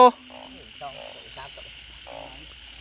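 Frogs and toads croak in a rural Thai field after the first rain: a few near, throaty, pulsed croaks in short bursts, separated by gaps, over a faint steady background drone.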